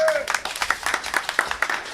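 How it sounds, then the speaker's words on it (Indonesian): Brief, scattered clapping from a modest crowd at the opening of a drawing exhibition in Gunungkidul, with light chatter and bright accents mixed in. "beri tepuk tangan semuanya"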